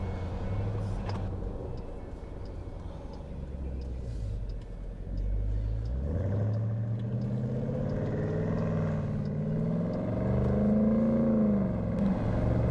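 2018 Dodge Durango SRT cruising in its auto street mode, a steady low engine drone with a rising harmonic sweep as it picks up speed, loud and close inside the cabin.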